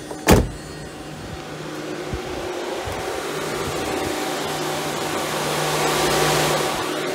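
A Mercedes W124 auxiliary radiator fan runs at low speed with the ignition on and the engine off, a steady whirring hum that rises slightly, opened by a brief sharp click or thump near the start.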